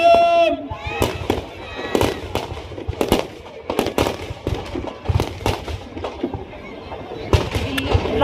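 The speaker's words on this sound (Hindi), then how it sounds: "पटाखे पटाखे कम है।" Firecrackers burst during a 180-foot Ravan effigy burning at a Dussehra ground in Panchkula Sector 5, with sharp loud cracks popping irregularly over crowd noise and a whistling rocket at the start.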